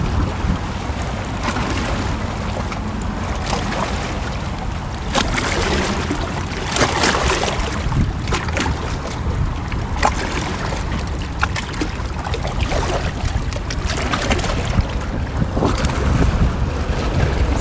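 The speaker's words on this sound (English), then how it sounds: "I am sitting on rocks right by the ocean" Ocean waves washing against a rocky shore, a steady loud roar of surf mixed with wind buffeting the microphone, continuous and close.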